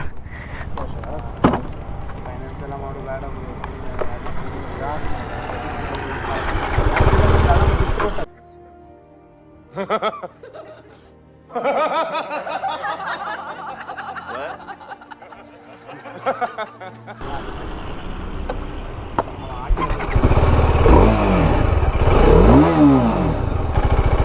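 A 2025 TVS RR310 motorcycle starts and revs before a test ride, its engine swelling in loud bursts with rising pitch near the end, while people talk and laugh nearby.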